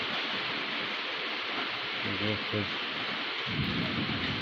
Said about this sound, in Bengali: প্রচণ্ড বৃষ্টি হচ্ছে আমাদের মাঝে